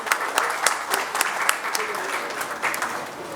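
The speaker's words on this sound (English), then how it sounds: "please give a round of applause to our renowned dignitaries" An audience at a corporate annual meet gives a round of applause for dignitaries, with steady clapping from a moderately sized crowd continuing throughout.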